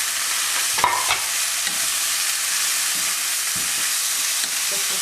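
Carrots and raisins stirred into a pan for vegetarian couscous, a steady close sizzle broken by a few scraping spoon strokes, with no voices.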